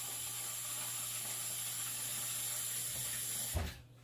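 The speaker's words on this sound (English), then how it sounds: "I'm going to add 2 more cups of water" Water runs steadily into a big pot of vegetable soup, a faint continuous hiss that ends with a short clunk near the close.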